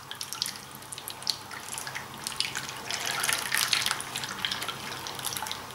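Leche flan mixture is poured through a strainer into a caramel-lined llanera, making a soft, steady trickle with light drips and splashes up close that swells briefly in the middle.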